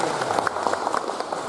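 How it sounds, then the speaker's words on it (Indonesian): Short burst of audience applause at a school principal's farewell and welcome ceremony, a dense patter of many hands clapping, fairly close and steady. "Bapak Ibu boleh tepuk tangan SMP 1 Tanjungmulyo"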